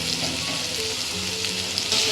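Spinach, peas and paneer fry with asafoetida in a pan, giving a steady, close hiss of sizzling oil with faint crackles throughout.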